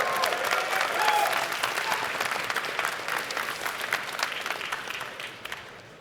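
Loud applause and cheering from an audience at a game developers' boss design panel, continuous and dense, fading slightly toward the end.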